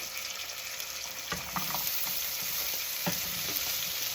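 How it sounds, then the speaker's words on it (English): Vegetables for chicken fajitas fry in oil in a pan, a dense, continuous hiss of sizzling, with a couple of soft stirring knocks. "I'm going to go ahead and put some oil onto my pan to go ahead and cook my vegetables."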